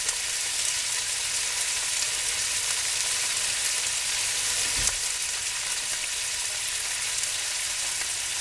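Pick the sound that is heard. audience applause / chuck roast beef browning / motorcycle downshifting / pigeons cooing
chuck roast beef browning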